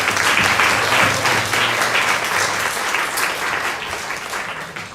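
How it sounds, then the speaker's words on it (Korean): A church congregation claps in welcome during a Sunday service, dense and steady applause filling the room for several seconds, slowly easing off toward the end. "우리 환영의 박수 한번 드릴까요?"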